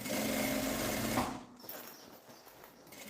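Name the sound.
sewing machine stitching bag lining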